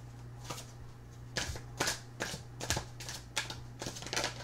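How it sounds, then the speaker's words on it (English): Tarot cards being shuffled in a series of quick riffling bursts, close and fairly quiet, with short pauses between each pass. "your cards are really, going together nicely. I think they're going to shuffle nicely,"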